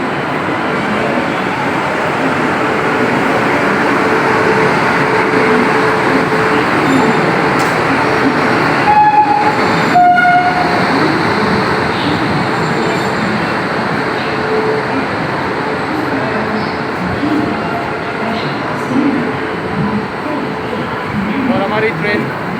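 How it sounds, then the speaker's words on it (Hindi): The Dehradun Shatabdi Express pulls in to platform 16 at a Delhi station, a loud continuous rumble and rattle of rail cars with a brief high squeal, over the noisy background of a busy platform. "ये हमारी ट्रेन आ गई है जो प्लेटफॉर्म नंबर 16 पे लग रही है।"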